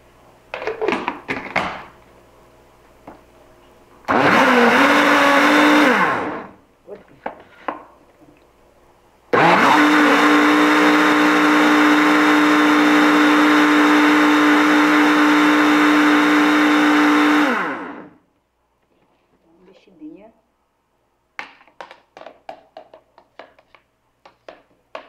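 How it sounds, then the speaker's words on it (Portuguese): A blender whirs loudly in two bursts, blending a strawberry cream dessert, a short one and then a long steady run, with clunks and clatter between and after. "Vou passar no liquidificador."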